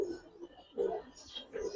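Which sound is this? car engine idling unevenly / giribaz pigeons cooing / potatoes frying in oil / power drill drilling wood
giribaz pigeons cooing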